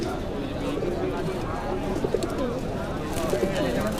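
High flyer pigeons cooing at a pigeon market in Mirpur 1, Bangladesh, a steady stream of soft, overlapping coos under a busy background murmur that sounds like crowd voices.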